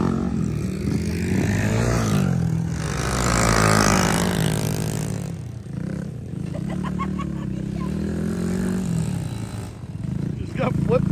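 Moped engines buzzing and revving in a street tire race at Daytona, a droning mix of small motors rising and falling under excited crowd shouts and commentary voices.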